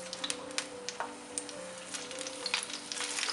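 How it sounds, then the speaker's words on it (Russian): Eggplant sizzles and crackles in a hot pan over medium heat, steady frying with scattered pops and a few light utensil clicks. "сейчас на сковороде будем обжаривать баклажан на среднем огне до золотистого цвета"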